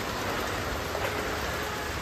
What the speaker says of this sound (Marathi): नाही आम्ही सिरियसली भिजतोय पावसात